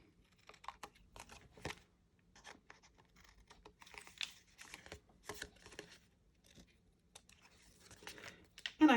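Paper being trimmed for a fractured-technique craft card makes quiet, scattered scratching and crinkling, with a sharper rustle at the very end.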